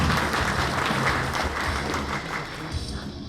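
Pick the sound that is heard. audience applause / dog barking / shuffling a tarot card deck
audience applause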